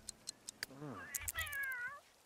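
A cat in The Sims 3 video game lets out a drawn-out, wavering meow that bends up and down in pitch, preceded by a few light clicks and taps, close and moderately loud.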